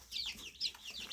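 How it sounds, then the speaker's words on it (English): One-week-old black silkie chick peeping in a brooder box, a few quick high chirps close by with no talk. "This is a 1-week-old silky chicken."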